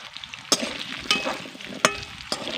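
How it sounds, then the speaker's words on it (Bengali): Potatoes lightly frying in a pan with a soft, steady sizzle, broken by four sharp spatula clinks against the pan at roughly half-second intervals, close up and without talk. "আলুগুলোকেও কিন্তু খুব বেশিক্ষণ ধরে ভাজবো না"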